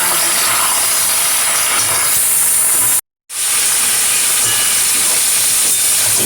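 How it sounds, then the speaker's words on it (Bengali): Vegetables fry in hot oil in a pan with a loud, continuous sizzle and hiss as they are stirred, cut by one brief silent gap midway. "এবার এগুলোকে আমি ভালো করে তেলে নাড়বো।"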